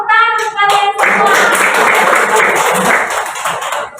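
A group of people claps hands, starting after a brief child-like voice, then a bright, dense burst of clapping that carries steadily for about three seconds before fading.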